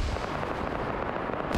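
Two grenades blow up in a tactical shooter game, a dense, continuous roll of heavy booms and blasts with no gaps, loud and close, ending in a sharper burst.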